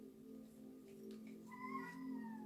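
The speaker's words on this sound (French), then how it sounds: "je ne sais pas si vous entendez mon petit minou là," A small pet cat meows with rising, drawn-out tonal cries over a steady low hum, close and moderately loud, with no talk.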